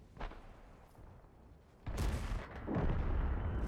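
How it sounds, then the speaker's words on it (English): Booming cannon shots from a tank firing high explosive shells in the World of Tanks video game, a muffled low thud followed by a heavier blast, moderately quiet and heard without talk. "he's also shooting high explosive."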